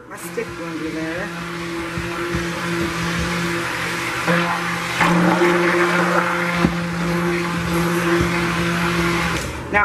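A stick blender whirs steadily through cold process soap batter made with lye, a close, continuous motor hum with a few brief shifts in pitch and faint handling noise.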